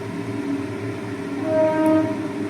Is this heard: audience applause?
no